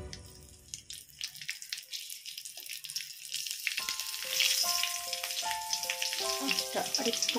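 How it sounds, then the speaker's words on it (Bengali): Green chillies and black cumin fry in oil. A soft, sparse crackle builds midway into a steady, close sizzle with popping spatters, over faint melodic background tones. "কাঁচা লঙ্কা দিয়ে একটু ফাটিয়ে দিয়ে দিলাম।"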